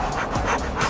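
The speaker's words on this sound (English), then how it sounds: "See that? That's really fast breathing." A person hyperventilates on purpose while sitting in a Ford biometric car seat, with rapid breaths in quick succession, close and fairly loud.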